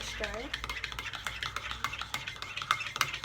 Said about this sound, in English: half fill this cup with boiling hot water, and then I give that a good little stir